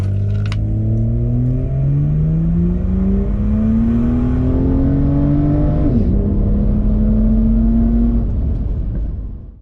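A tuned naturally aspirated Ford Barra straight-six car accelerating hard from 0 to 100 km/h, loud engine rising steadily through the gears with one shift near the end, heard from inside without talk.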